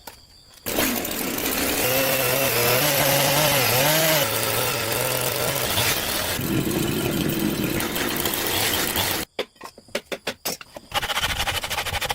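A powered saw whines and bogs as it cuts through thick timber, loud and close for several seconds, then stops and leaves scattered knocks and clatter.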